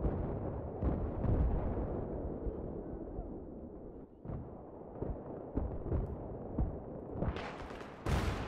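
Grenade blasts in the shooter game Battlefield 3, a rumbling run of heavy booms and crackling bursts, with a sharp loud blast near the end.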